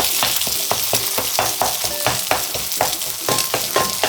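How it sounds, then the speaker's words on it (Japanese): A wooden spatula crushes and chops warm cooked rice onto a fried egg in a hot pan for simple egg fried rice, making rhythmic scraping knocks over a continuous loud sizzle. "でそしたら木べらで躊躇なく潰していきます。"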